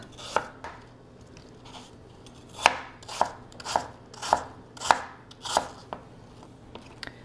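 A knife cutting apples into thin slices on a board, giving about nine crisp, evenly spaced chops up close, with no talking.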